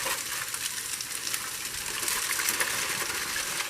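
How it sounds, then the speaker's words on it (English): Foil being peeled off a pan of poached salmon, a dense close crinkling and hissing rustle that stays steady throughout, with no talking. "I'm going to take my foil off."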